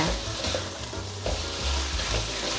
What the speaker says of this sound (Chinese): 继续翻炒， 放入太白粉水炒